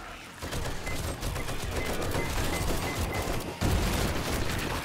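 Rapid gunfire and blasts erupt during a co-op blood-moon night in the survival game 7 Days to Die, a dense, continuous barrage with a sharp burst near the end.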